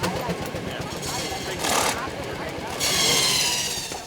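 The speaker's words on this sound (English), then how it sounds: "The saw is turned by a second wheel." A circular saw driven by a belt from a steam tractor's flywheel runs at an outdoor show, giving a steady mechanical roar with two louder cutting bursts, and a voice talks over it.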